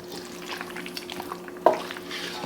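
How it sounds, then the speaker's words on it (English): A spoon works through a creamy mixture being folded in a bowl, giving soft wet scraping and a couple of louder clinks against the side, fairly close and quiet. "And now we're just going to give this a stir."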